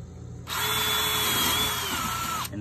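A power drill bores a hole for a fender flare on a Club Car Precedent golf cart, one steady high-pitched whirring run of about two seconds, close up and alone.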